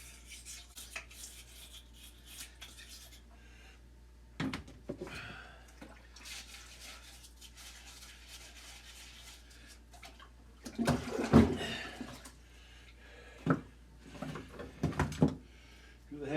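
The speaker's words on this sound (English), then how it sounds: "Scrub in the ports." Ports of a Cat 60 engine cylinder head are scrubbed with a brush, giving intermittent rasping rubbing strokes, faint at first and then louder in bursts near the end, with wet wash noises and quiet sounds of someone working nearby.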